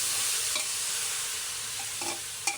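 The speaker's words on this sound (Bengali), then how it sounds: "নাড়াচাড়া করে নেব" Rice and vegetables with soybean chunks fry for khichdi in a pan, giving a close, steady sizzle. A few soft scrapes and clinks from stirring break through it.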